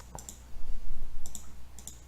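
Mouse clicks while moving through an online English level test, a few sharp isolated clicks spaced about a second apart, close and quiet against a low hum.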